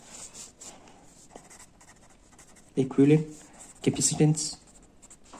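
Pen or marker writing a conclusion during a physics lecture on parallel capacitors, a soft steady scratching heard close, with someone briefly speaking over it.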